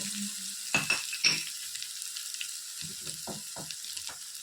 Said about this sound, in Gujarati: ખાલી મસાલો આપણે શેકવાનો જ છે.